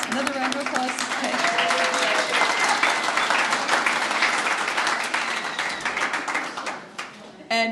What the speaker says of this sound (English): And now for our great round of applause, another round of applause.